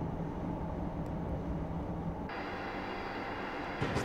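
Amtrak Acela Express train in Train Simulator 2015 on a New York to New Haven run, a steady low rumble of running rolling stock with a sudden shift in tone midway as the sound changes, no voices.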